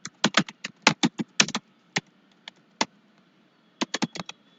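Computer keyboard typing in quick bursts of sharp key clicks, then a pause and a second short run of keystrokes, close and clear with no talking.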